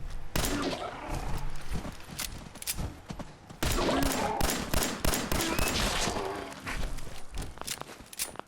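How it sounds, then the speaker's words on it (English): Rapid gunfire from Fallout 4 combat, dense bursts of sharp loud shots and repeated cracks filling the whole stretch with brief gaps, mixed with game effects. "I was only just shooting those guys to get them to move away from us"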